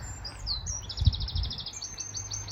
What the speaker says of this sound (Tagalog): Birds are singing, even the birds are happy.